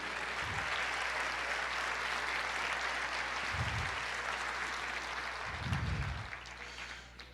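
A church congregation at an Easter service breaks into continuous applause, a steady wash of clapping filling the room, with a few low thumps rising beneath it and a low hum underneath.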